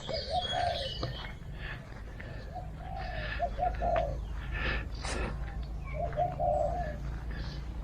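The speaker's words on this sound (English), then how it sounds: "then I hear all the birds." Several birds call outdoors, including repeated soft cooing and scattered chirps, over a low steady background rumble.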